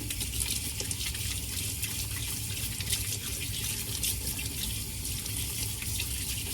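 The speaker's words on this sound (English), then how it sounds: "let me wash off my hands here" Hands washed under a running kitchen tap while baking biscuits, a steady close hiss of water splashing into the sink with no break, fairly loud and alone.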